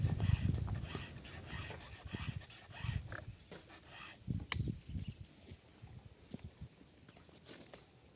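A hand file sharpens a chainsaw chain in a run of rhythmic rasping strokes, close and fairly quiet. The strokes start busy, then grow sparser with short pauses between them.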